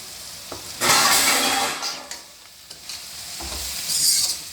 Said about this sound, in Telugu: ఇది ఇలా ఫ్రై చేస్తూ ఉండాలండి కొద్దిసేపు ఆగాగి బాగా దగ్గరికి వేసేటట్టు ఫ్రై చేయాలి